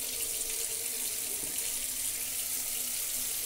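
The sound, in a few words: tap water running, rinsing brass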